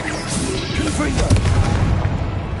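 Booming blast bursts from the Confringo spell in Hogwarts Legacy, dense and continuous across the stretch, with a heavier thump near the middle and game noise layered underneath.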